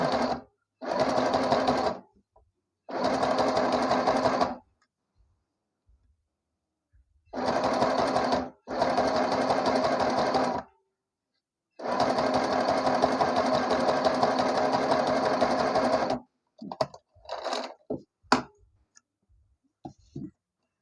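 A sewing machine zigzag-stitches along a fabric edge in several close, steady runs of a few seconds each, separated by pauses, ending in scattered clicks and handling noises.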